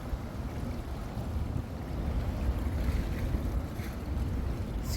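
Wind blowing along the seashore in Panama, a steady low rushing gust buffeting the microphone, with faint surf-like swells and no talking.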